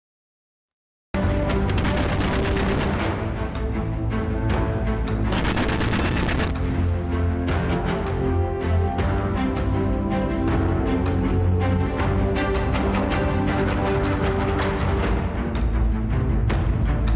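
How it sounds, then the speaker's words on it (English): A giant flak-style machine gun fires in long, rapid bursts, a dense stream of loud percussive shots with sharp cracks repeating over many seconds and no speech. "It's just a giant machine gun."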